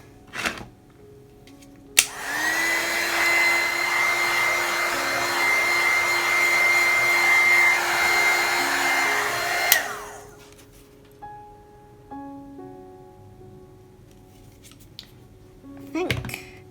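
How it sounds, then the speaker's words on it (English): A heat gun drying layers of paint in a watercolour spinach painting runs as a steady loud whirring blow for about eight seconds, then cuts off, followed by soft clicks and light handling noises. "And we'll use a heat gun. Always in between layers. It will speed everything up."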